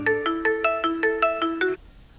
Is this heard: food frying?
no